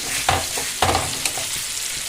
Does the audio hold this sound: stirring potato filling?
yes